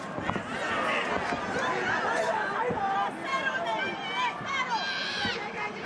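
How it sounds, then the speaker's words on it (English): A large boxing crowd in Tokyo cheering and murmuring during a Naoya Inoue versus Luis Nery fight, a broad rolling roar under commentators talking throughout. "you can hear this massive crowd in Tokyo trying to rally support"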